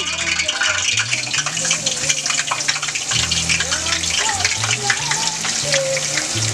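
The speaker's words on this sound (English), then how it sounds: "So we're just going to put the wing in there." Naked chicken wings without flour fry loudly in hot oil, a dense, bubbling crackle that keeps going throughout with a voice speaking over it.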